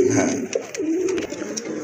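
A pair of pigeons coos steadily and close by, the low rolling calls continuing through the whole moment with a few faint clicks and rustles in the background.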